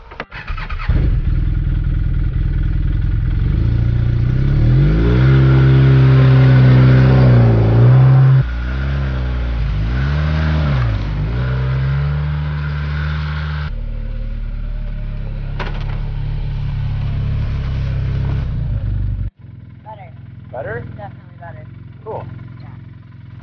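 An Arctic Cat ProCross snowmobile with freshly adjusted suspension starts and revs loudly up close for a test ride, its engine note climbing and falling before it cuts out and leaves faint rustling.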